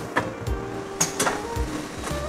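An automatic sleeve sealer shrink-wrapping machine works nearby with a stainless steel mesh belt and heat tunnel, giving mechanical thumps, clicks and sliding sweeps over a steady running hum.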